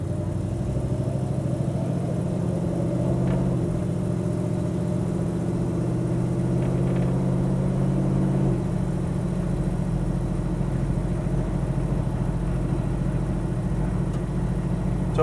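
A 1963 Chevrolet Nova Custom restomod cruises along at moderate speed, a steady low engine hum and road rumble heard from inside the car, with a slight shift in engine tone midway.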